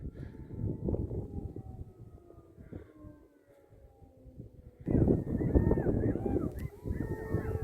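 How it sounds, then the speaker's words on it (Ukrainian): A distant siren wails in long, slowly falling tones beneath broadband outdoor noise, then two families of jackals join in with a chorus of yipping, howling calls. "сирена завіла"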